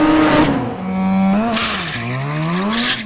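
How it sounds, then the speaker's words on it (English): Car warming up its tyres before a drag race, engine revving hard in rising and falling sweeps with tyre squeal, loud and close, no talk. "Tom was already warming up his tyres"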